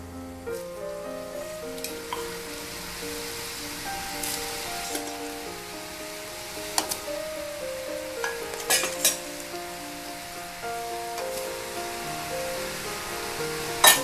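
Sago (javarisi) murukku dough frying in hot oil in a Karaikudi-style kitchen, with a steady, continuous sizzle and bubbling and occasional brighter crackles, heard close and alone without talk.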